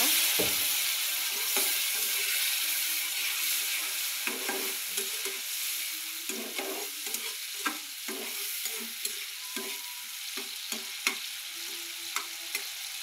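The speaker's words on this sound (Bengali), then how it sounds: "এখন একটু ভালো করে ভাজা ভাজা করে নেব চিংড়ি মাছগুলো একটু মশলার সাথে।" Shrimp fried with spices in a pan, sizzling steadily throughout while a utensil stirs and scrapes in repeated clicks and knocks, close and fairly quiet, with no talking.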